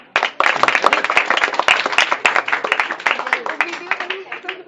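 Audience clapping after a talk on vegetarianism and the environment at a school session, dense claps that thin out, mixed with voices in the room.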